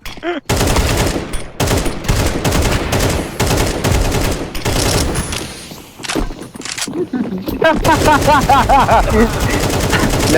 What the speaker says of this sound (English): allow the players to fire back at the enemy